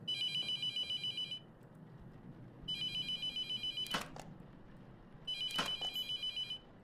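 A telephone bell rings in three separate bursts of rapid trilling, with brief clatters between them, loud and close with no one talking.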